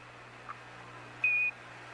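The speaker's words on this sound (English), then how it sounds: "Give us a reading on the 1202 program alarm." A single short, high electronic tone from the Apollo 11 1202 program alarm in 1969, lasting about a quarter second over a quiet background hum.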